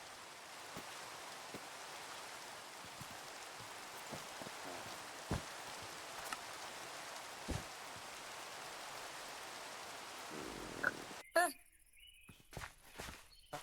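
Steady rain falls in a modded Minecraft survival world, a soft constant patter with occasional louder drips, before stopping abruptly near the end amid a few game clicks.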